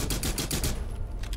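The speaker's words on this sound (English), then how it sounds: "I shot him through the wall." Rapid automatic gunfire in a Rainbow Six Siege round, a tight string of loud evenly spaced shots, a brief pause, then a couple more bursts at the end.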